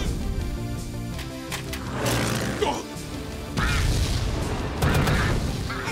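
A cartoon army of ducks quacks loudly in repeated overlapping bursts, layered over busy animated sound effects and music in short waves.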